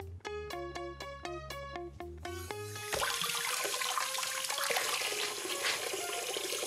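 Water gushes and splashes steadily in a cartoon washing scene, starting right after a short run of bright musical notes and continuing to the end.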